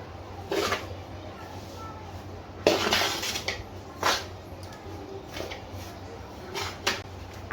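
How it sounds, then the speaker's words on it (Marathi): Turmeric being mixed into a mango pickle spice blend, heard as irregular scraping and clinking of a spoon against a metal vessel, with soft speech-like sounds in between. "ही हळद ॲड करून घ्यायची पूर्ण हे असे सर्व प्रकारे मिक्स करून घेऊया"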